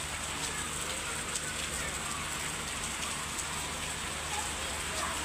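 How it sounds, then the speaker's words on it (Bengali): Heavy rain falls steadily as a dense, even hiss of drops hitting surfaces nearby, continuous throughout without a break. "অনেক বৃষ্টি পড়তেছে"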